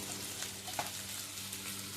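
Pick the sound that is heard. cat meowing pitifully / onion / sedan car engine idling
onion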